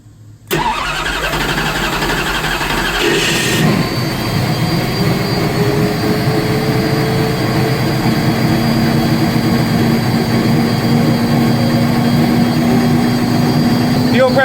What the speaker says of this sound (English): We're gonna fire it up, see what happens.